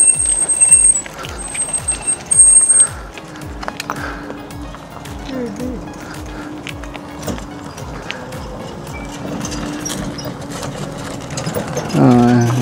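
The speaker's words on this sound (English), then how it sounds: "That's four-wheeler." A four-wheeler ATV engine passes by, its rattling, pulsing drone rising and falling, then swelling louder near the end, with voices mixed in.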